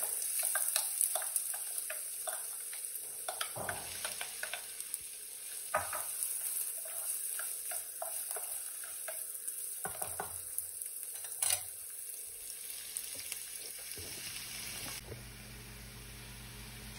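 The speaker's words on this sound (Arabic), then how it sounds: "حطيت هنا زيت، اول شيء انزل البصل" Chopped onion frying in oil in a pan at the start of a home-cooked chicken béchamel pasta, with a steady close sizzle and occasional scraping stirs, and no talking.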